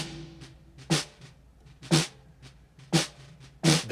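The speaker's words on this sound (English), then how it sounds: "this is the sound of just the snare drum" A dry, re-amped snare drum struck alone at a steady pace, one crisp loud hit about every second with short ringing tails and quiet gaps between.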